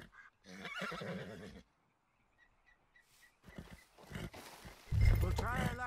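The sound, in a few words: horse whinnying in the video game Red Dead Redemption 2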